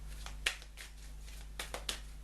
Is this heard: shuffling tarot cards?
yes